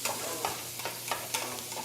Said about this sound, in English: Bell pepper and onions straight into a hot pan.